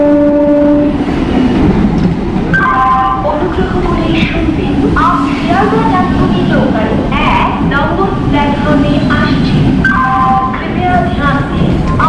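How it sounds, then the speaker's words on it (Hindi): Kolkata local train on the Sealdah–Bangaon line pulling into a station platform, with horn blasts and rumbling wheels under continuous crowd chatter and announcements, loud and close throughout. "हम लोग का ट्रेन 3 नंबर प्लेटफॉर्म पे आ रही है।"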